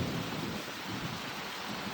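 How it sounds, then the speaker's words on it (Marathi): Heavy summer rain pours steadily with a deep rolling thunder rumble beneath it during a sudden rainstorm with strong wind at a farm home, a continuous dense wash with no voices. "उन्हाळ्यात पाऊस चालू झाला"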